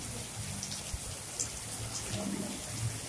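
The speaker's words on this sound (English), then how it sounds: "It's not really a rainstorm, it's just raining." Steady light rain falls, a continuous even hiss of drops with faint patters on surfaces, moderately close and unbroken throughout, with no voices.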